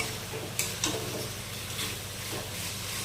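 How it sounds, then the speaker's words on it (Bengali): Potatoes frying with spices in a pan for an egg and potato curry, a dense steady sizzle with a few faint spoon taps and scrapes, close and even throughout. "এবার আলুটা মশলার সাথে ভালো করে কষিয়ে নিয়ে আমরা"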